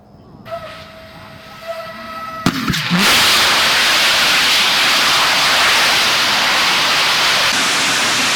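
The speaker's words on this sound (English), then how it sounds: "We're going to tie it down and do a static engine test." A new rocket engine is tied down in North Texas for a static test firing: after a few faint tones and clicks it ignites abruptly into a loud, steady, roaring blast that holds to the end.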